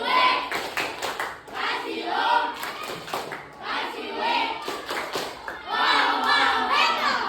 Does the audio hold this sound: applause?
yes